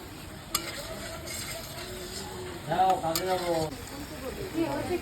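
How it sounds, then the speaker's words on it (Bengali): Mutton is stir-fried for kosha in a pan with a low, continuous sizzle and occasional scraping clinks from stirring. A voice murmurs briefly underneath. "মটনটা কষা হতে থাক"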